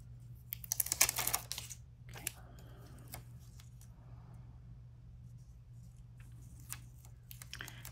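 Paper scissors snip quick, close cuts while trimming paper planner stickers for a Halloween-themed planner spread, followed by faint paper handling over a low steady hum.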